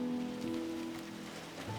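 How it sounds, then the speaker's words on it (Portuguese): Steady rain falling on a surface in a city, a soft continuous patter with a faint low tonal hum underneath, no voices. "Chove."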